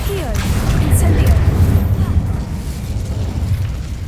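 Explosive blast spells from the Hogwarts Legacy video game boom loudly and steadily, low rumbling bursts layered with crackle, mixed under voice-like sounds throughout.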